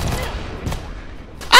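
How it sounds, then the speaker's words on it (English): Carpet bomb detonations in the Worms W.M.D video game: a few dull booming blasts spaced through the moment, ending in a sudden loud burst. "Carpet bomb."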